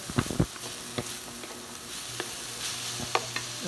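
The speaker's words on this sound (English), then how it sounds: "And we'll add the bean sprouts. The bean sprouts don't take very long to cook. And we'll just stir those around." Bean sprouts for a low-fat Thai chicken salad are stirred in a hot pan, giving a steady close sizzle broken by several sharp scrapes and clacks of the utensil against the pan.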